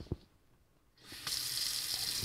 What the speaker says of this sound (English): we're going to first turn on our water faucet.